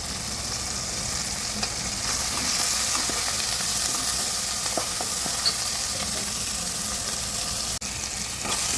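Tomatoes and coriander stir-fry in a pan for idly kurma, a constant bright sizzle with scattered scrapes and light taps of a spoon against the pan.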